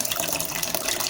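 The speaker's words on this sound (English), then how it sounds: "As you can see, I'm adding water." Tap water pours steadily into a container of beans, a continuous close splashing and gushing rush with no pauses for the whole short stretch.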